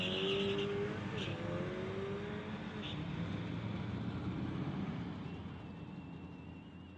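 A Tesla and a Volkswagen drag racing at a street-legal strip event, engines roaring loudly at first and then fading into a steady distant drone as the cars pull away, with faint crowd or announcer sound underneath.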